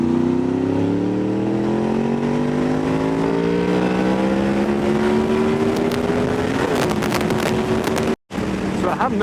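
A Honda VFR 800 motorcycle with its exhaust baffles removed pulls along a mountain road, its engine note climbing steadily as it accelerates, loud and close with wind rush, then cutting out for a brief moment near the end.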